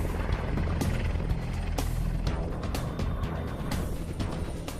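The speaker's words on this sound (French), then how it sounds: "C'est un hélicoptère énorme qui mesure près de 23 mètres" An AgustaWestland EH-101, a huge three-engine helicopter about 23 metres long, flies with a dense, steady rotor and turbine roar, loud and continuous.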